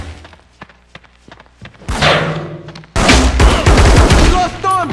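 Gunfire in the Reservoir Dogs PS2 video game, loud bursts of rapid shots and heavy thuds in close succession, with shouted voices mixed in.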